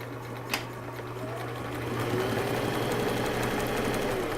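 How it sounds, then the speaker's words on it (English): A sewing machine runs a zigzag stitch along the hem of a fabric turban, a steady close mechanical whir that grows slightly louder after the start and continues without pause. "So I'm going to go ahead and do a zigzag stitch on the hem."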